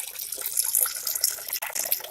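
Water flows and trickles steadily in an aquaculture tank growing tomatoes, a continuous close splashing wash with no talking.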